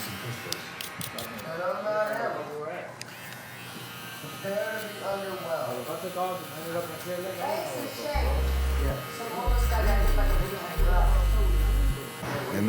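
A BaBylissPRO LithiumFX+ limited edition iridescent hair clipper, straight out of the box, runs with a steady electric buzz under someone talking, then gets louder and harsher in short bursts near the end.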